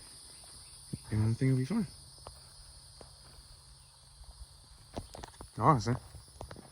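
Night insects chirp outdoors in a constant high drone while someone talks in short bursts over it.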